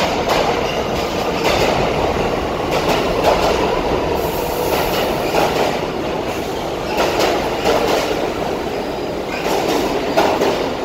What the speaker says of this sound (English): Because right in front of you, boom, 6 train.